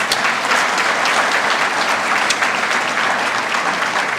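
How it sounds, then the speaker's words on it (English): Audience applause fills a Nash County Republican Party convention hall in 2019, a dense, steady clatter of many hands clapping throughout, loud and sustained with no pauses. "Let's have some applause."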